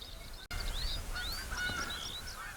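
Several geese honk in quick, overlapping calls a little way off, their rising nasal cries scattered across a quiet outdoor background after a brief knock at the start.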